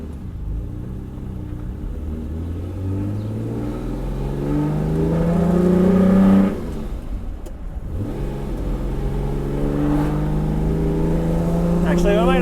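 A Ferrari 330 GTC drives on a quiet road, its engine rising in pitch through repeated accelerations with a gear change between, loud and close throughout.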